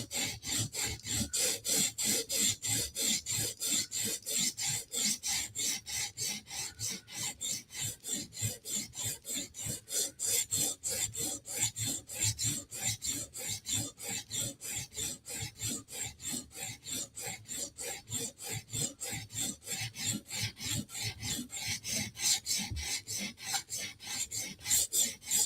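Rhythmic rasping strokes of a Spyderco knife blade drawn across a sharpening stone, dozens of evenly spaced close scrapes repeating steadily with no talk.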